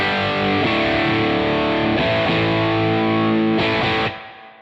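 An electric guitar runs through a BADCAT Cub V amp with a 12AX7 valve at high gain, giving thick distorted sustained chords that are restruck a few times and then cut off abruptly.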